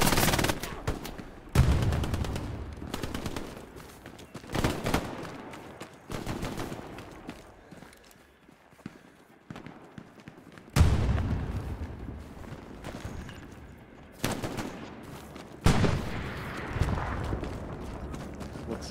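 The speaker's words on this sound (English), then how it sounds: "Shelling southwest, sending 5 HE." High-explosive artillery shells land in the Hell Let Loose video game, a series of separate heavy booms spaced a few seconds apart, each fading into a rumbling tail over quiet background.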